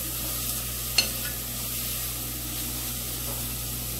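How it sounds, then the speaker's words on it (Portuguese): Leek frying in a pan of oil for scrambled tofu, a constant hissing sizzle with a single brief clink near the one-second mark, otherwise steady and unbroken. "Nesse momento você pode acrescentar o alho poró"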